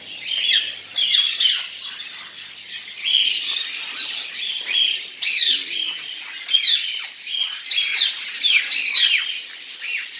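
Ringneck parakeets squawk and chirp continuously in a close flock, with overlapping shrill calls rising and falling throughout and no talking.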